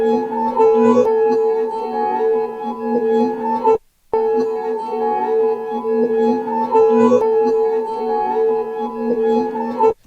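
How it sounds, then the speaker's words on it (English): Unprocessed acoustic guitar recording meant for a dark organic sample, a warm sustained tone with steady low and mid notes ringing continuously, cut by one brief gap before the phrase repeats, clear and alone. "taken a sound that was initially an acoustic guitar recording"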